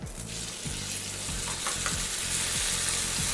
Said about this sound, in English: I'm going to use one of these pans to serve this one, which is it's going to be nice and sizzling look